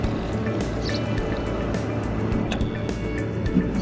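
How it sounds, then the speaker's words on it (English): A steady low outboard motor drone with splashing water as a boat is driven up onto a trailer in shallow water, close by. "Point the motor straight, give it some gas, and it'll drive right up the bunks."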